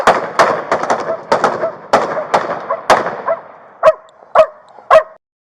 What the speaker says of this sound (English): another beanbag round and lethal rounds were fired